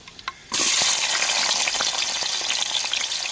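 Chopped large onions dropped onto fenugreek seeds in hot oil give a sudden loud, steady sizzle and crackle that stays close and continuous after a quiet start.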